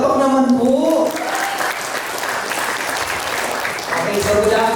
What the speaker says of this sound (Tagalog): Palakpak naman po!